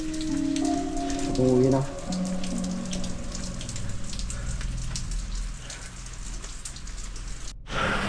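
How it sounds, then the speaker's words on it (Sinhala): Steady rain falls all around in a jungle, a close, dense patter of drops on surfaces that runs throughout, with a brief voice and a tonal hum near the start. "වටේටම වහිනවා."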